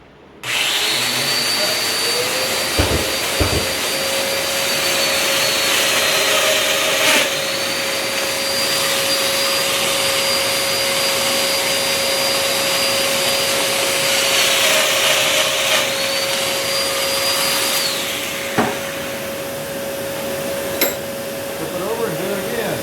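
Shop dust collector running steadily with a woodworking tool for a custom nesting coffee table, a loud continuous whooshing drone with a high whine rising and cutting out as the tool starts and stops, a few knocks along the way.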